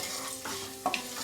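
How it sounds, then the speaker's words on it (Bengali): Whole spices, cloves, cinnamon, pepper, mace and cumin, fry in hot oil with a soft steady sizzle and a brief stir or clink near the end. "ফোড়নটাকে ফ্রাই করে নেব"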